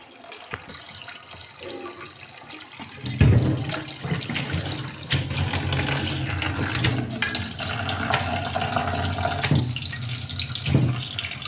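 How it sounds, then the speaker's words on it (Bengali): Tap water runs onto mutton in a kitchen sink as the meat is washed, with quiet clinks at first and then a steady, splashing stream from about three seconds on. "এইবার মটনটাকে ধুয়ে নেব মটনটাকে ভালো করে ধুতে হবে"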